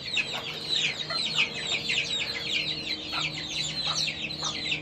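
Serama rooster clucking in a backyard coop: a rapid, repeated series of close, high clucks and chatter running continuously with little pause.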